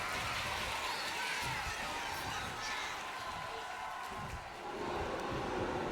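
A displeased arena crowd in the wrestling game WWE 2K25 murmurs and jeers in a steady, distant roar that fills the background throughout, with a commentator's voice over it.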